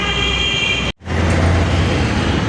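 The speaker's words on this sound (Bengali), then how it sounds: "ওই যে মেট্রো রেল যাচ্ছে" A metro rail train rumbles past on an elevated line above Bijoy Sarani in Dhaka, a loud steady roar blended with heavy road traffic noise, briefly cut off partway through.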